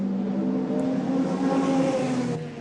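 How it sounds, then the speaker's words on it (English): The No. 28 Toyota race car pulling out of the pits at Le Mans in 1998, a steady high engine whine with distant crowd and track ambience, continuous and moderately loud. "the 28 car pulls out now with Emanuele Collard at the wheel"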